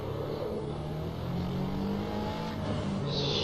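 Drift car in the Assetto Corsa racing game, lapping the Algarve International Circuit, with a steady droning engine note held at high revs throughout, loud and continuous, and a brief higher tire-like squeal near the end.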